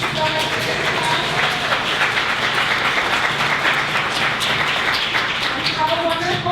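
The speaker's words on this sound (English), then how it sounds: "one more big round of applause for our panelists" An event audience claps for its panelists in a steady, sustained round of applause filling the room, with talk audible underneath.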